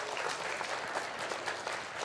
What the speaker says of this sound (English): Let's stand up and give these family members a round of applause